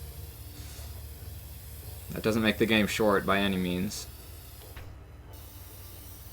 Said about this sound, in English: Right now, I'm spray painting.